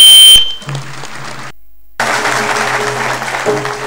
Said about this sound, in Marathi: आजच्या अन्नदात्यांना पुन्हा एकदा टाळ्या